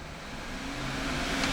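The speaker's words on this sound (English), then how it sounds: "Alright, now the engine kicks on." A 2009 Cadillac Escalade Hybrid's engine kicks on in gear, settling into a steady, close idle rumble with a low hum that swells slightly in loudness; no voices.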